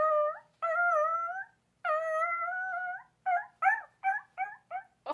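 A canine howls in long rising and falling wails, then breaks into a string of short yips and whimpering cries, close and clear against a silent background with no talk.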